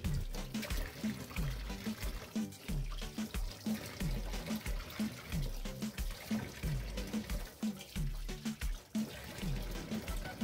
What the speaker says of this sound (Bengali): মাছগুলো ভালোভাবে ধুয়ে নিতে হবে